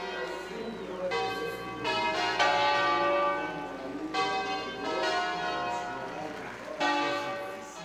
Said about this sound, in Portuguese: Ao som dos sinos da Basílica